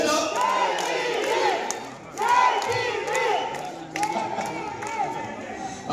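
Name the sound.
crowd shouting and cheering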